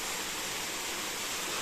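SitaKund waterfall at Baripada in Mayurbhanj, a steady faint hiss of falling water that holds even for a brief moment, with no voices.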